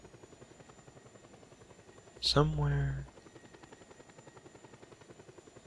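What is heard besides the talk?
helicopter in video game Just Cause 2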